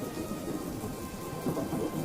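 Thunder rolls through steady rain, a continuous low rumbling roar under a dense patter of falling drops, fairly loud and with no voices.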